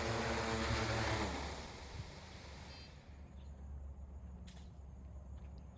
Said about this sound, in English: The drone is now arriving at the customer's location.